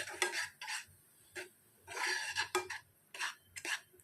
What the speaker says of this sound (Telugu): కొబ్బరి కూరని కూడా వేసుకొని మనం ఇలా కలపాలి దగ్గరికి అయ్యేదాకా ఇలా కలుపుకోవాలి